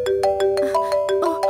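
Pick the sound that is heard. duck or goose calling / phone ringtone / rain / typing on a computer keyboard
phone ringtone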